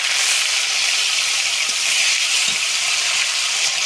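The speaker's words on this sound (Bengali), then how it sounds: "কড়াতে তেল আছে, দিয়ে দেবো কাঁচা লঙ্কা চিরা, তেজপাতা, শুকনো লঙ্কা পাঁচফোড়ন, বেটে রাখা আদা আর গোটা জিরে" Spices sizzle steadily in hot oil in a wok: green chilli, bay leaf, dried red chilli, panch phoron, ground ginger and whole cumin tempering for a vegetarian cabbage ghonto. It is a loud, continuous, close hiss throughout, with no talking.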